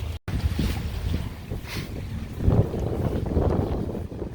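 Steady wind rush and choppy water slapping against a sailboat hull on the Hudson River, a continuous close roar of 2 to 3 foot waves with low buffeting wind noise on the microphone, no voices.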